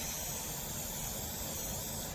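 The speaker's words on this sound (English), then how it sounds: "what I do is I spray this outside edge" A steady, close hiss of spray along the outside edge of a stained glass mosaic frame runs unbroken for a couple of seconds, then cuts off at the end.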